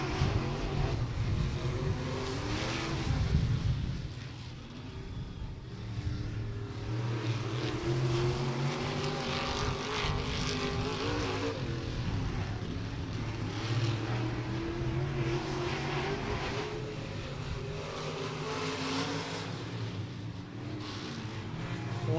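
A race car circles a local speedway on a qualifying lap, its engine a steady sustained drone that rises and falls slightly as it passes, heard at a moderate distance with no clear voices.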